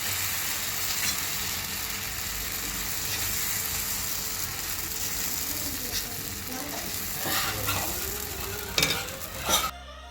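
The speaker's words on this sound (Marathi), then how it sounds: "आता डोसे लावायचे तव्यावर तेल टाकून घ्यायचं योगा आणि त्याच्यावर असं डोस्यासारखं पसरून घ्यायचं" Green moong dosa batter sizzling on an oiled griddle, a continuous close hiss with some scraping, and a few louder clatters near the end.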